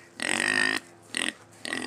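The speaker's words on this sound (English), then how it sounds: "Say hi, piggy." A pig kept in a van makes three rough, throaty grunts, a long one followed by two shorter ones, close and fairly loud with short pauses between.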